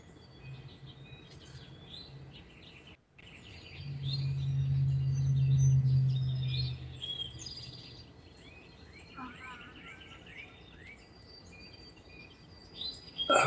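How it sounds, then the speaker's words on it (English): Birds chirp and twitter faintly in the distance over steady outdoor ambience, with a low rumble swelling briefly midway. "I'm surprised how many people want to hear me talk over the birds,"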